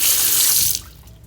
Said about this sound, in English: We have hot and cold running water.